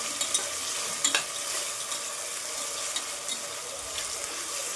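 Potatoes and peas fry in a pan with a soft, continuous sizzle and a few light clicks of stirring, close and fairly quiet, with no talking.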